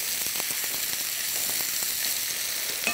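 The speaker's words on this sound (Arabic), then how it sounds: "حطينا احنا تو هنا شوية زيت، راح نحط بصل، والبصل افرموه خشن شوية. نحطوا البصل ونقلبوه." Coarsely chopped onion hitting hot oil in a pan for Mexican tortilla, a bright continuous sizzle up close with light crackling pops and a few soft stirring taps.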